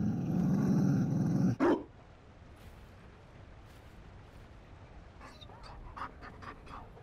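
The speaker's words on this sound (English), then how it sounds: "You found a dog?" In the Dragon Age: Inquisition game, a Mabari war dog pants and rumbles loudly for about a second and a half before a sudden stop, followed by quiet ambience and a few faint scattered clicks.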